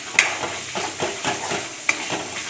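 A reddish spice paste roasts in a pan while being stirred, a close, steady sizzle broken by scraping strokes and a couple of sharp clinks of the utensil.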